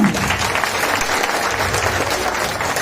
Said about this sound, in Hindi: अपने लिए तालियां बजाएंगे ना।